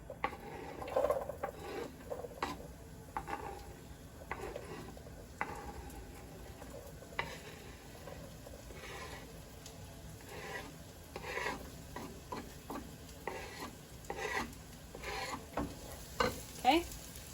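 Chopped onion sizzles in melted butter in a pan, a quiet steady fry broken by repeated scraping strokes of a stirring utensil, faint and close, with no voices.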